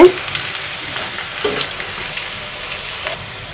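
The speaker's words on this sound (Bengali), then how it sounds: "আপনারা চিকেন ফ্রাইটা যেমন সময় নিয়ে ভাজেন সেম ওই সময়টা নিয়েই আপনারা ফুলকপির ফ্রাইটা ভাজবেন" Cauliflower fry crackling in hot oil, a continuous dense sizzle with occasional stirring scrapes, loudest at the start and settling into an even hiss, with no talking.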